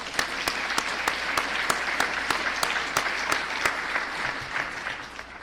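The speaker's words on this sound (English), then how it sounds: "Give yourselves a round of applause." An audience at a Simpson College president-elect news conference claps steadily for several seconds, a dense, even patter of many hands filling the room.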